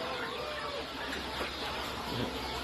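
Chickens about five months old on a farm cluck softly within dense, constant farmyard noise, near and steady throughout.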